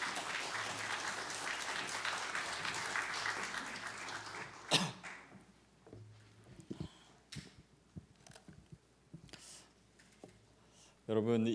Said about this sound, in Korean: 우리 권혁빈 목사님 나오실 때 모두 환영의 박수로 기쁘게 맞아 주시겠습니다.